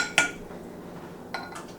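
Clean dishes handled in a home kitchen while ramen is being prepared, two sharp clinks of crockery and cutlery about a second apart, close and quiet, with no talking.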